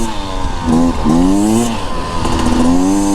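A 2024 Beta Xtrainer dirt bike engine on a ride, its tone rising and falling with the throttle over a few seconds, near and loud, without talk.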